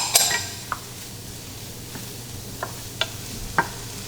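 Vegetables sautéing in a pan with chili powder, oregano and cumin seed, giving a faint steady sizzle with a sharp utensil clink at the start and a few light, spaced taps of stirring.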